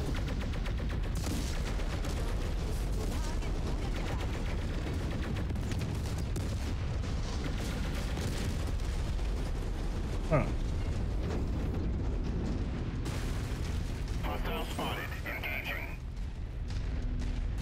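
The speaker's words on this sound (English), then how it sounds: "Why is there artillery on this map?" Artillery explosions and gunfire from mech combat in MechWarrior 5: Mercenaries, a steady, dense rumble of blasts and impacts running throughout, with a sharp crack near the middle and a voice talking over the battle noise.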